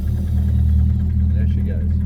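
A 1932 Delage D8S flat-eight engine fires up and runs with a loud, steady, deep rumble, close by and without voices.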